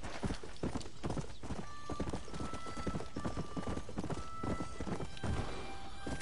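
Horse hooves galloping in the video game Red Dead Redemption, a steady rapid clip-clop rhythm running throughout, fairly close, with a few faint tonal game sounds layered over it.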